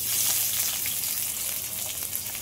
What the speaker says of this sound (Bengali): তেল গরম হয়ে গেছে, পেঁয়াজ দিয়ে দেব।